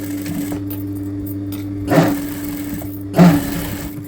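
A sewing machine stitches a baby blouse, running as a steady close mechanical hum with two brief louder surges.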